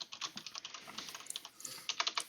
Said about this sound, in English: new keyboard and mouse, so it might sound different